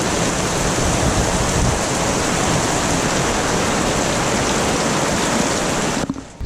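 A rain squall passes over a sailboat anchored in a bay, giving a dense, steady rush of rain that stops abruptly near the end.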